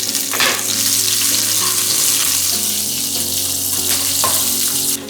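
Chillies fry in hot oil in a pan for upma, a loud, steady close-up hiss with occasional sharper crackles and pops throughout.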